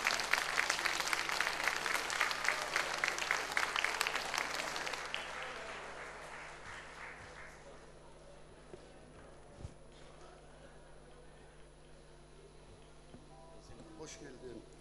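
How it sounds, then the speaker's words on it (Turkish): A TV studio audience bursts into loud rhythmic applause that fades away over several seconds, leaving quieter room noise with scattered footsteps and faint movement. "Ben o güzel alkışlarınızla Veli Bey'i buraya kadar alacağım."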